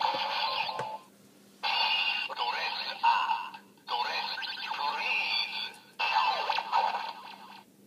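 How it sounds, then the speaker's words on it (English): A Kamen Rider Wizard DX driver toy plays its Dress Up ring sound: a bright electronic jingle in several loud bursts with short gaps, close up, with a toy voice announcement mixed in. "That's the sound it makes when you change clothes"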